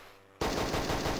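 Machine gun fire in the video game Hogs of War: a sudden loud, dense burst of rapid automatic shots starts abruptly after a short quiet moment and keeps hammering steadily to the end, with no talking.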